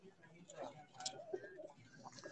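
Pigeons coo faintly in a rooftop loft, a few low throaty calls heard at a distance over a quiet background.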